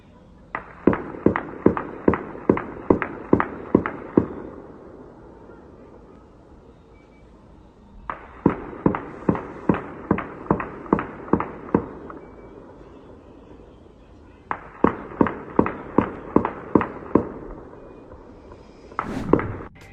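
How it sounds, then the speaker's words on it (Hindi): Night gunfire in a clash between Palestinians and the Israeli army comes in three rapid bursts of about eight sharp shots each, separated by pauses, sounding moderately distant, with one last crack at the end. "देर रात को फिलिस्तीनियों और इजराइल के बीच में गोलीबारी हुई।"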